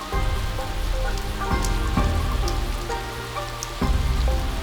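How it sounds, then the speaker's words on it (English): Autumn rain falls steadily on a surface, a dense close patter of drops with a few louder splashes, with a low musical bed underneath and no talking. "Autumn rains arrive, filling the air with the moisture"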